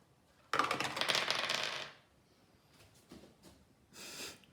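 Dice tumble through a tower made from a drink carton, a short burst of rattling clatter lasting over a second, then a few faint clicks and a brief second rattle.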